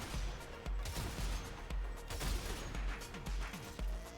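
The Cyte-09 weapon in Warframe fires a rapid series of heavy, punchy shots, close and loud, in a steady rhythm of roughly two to three per second.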